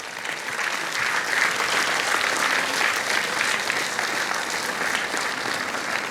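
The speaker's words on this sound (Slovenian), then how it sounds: "Aplavz." Sustained audience applause at a folk music concert in Koprivnica, a dense, steady clapping from a large crowd lasting throughout without a break.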